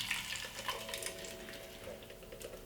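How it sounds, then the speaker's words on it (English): Tomato sauce from a giant can poured into a cooking pot, a soft continuous wet splashing and gurgle heard close and fairly faint throughout, with no voices. "You pour it into the pot."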